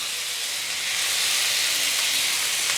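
Chopped tomatoes with salt sizzling in a hot pan of onions for a dhaba-style green pea masala, a steady loud hiss that builds slightly and holds throughout, with no talking.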